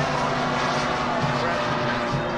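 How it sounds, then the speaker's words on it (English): L-39 Albatros jet at an airfield running nearby with a loud, steady engine roar and whine, continuous and close throughout. "Don't want to get too close to this jet."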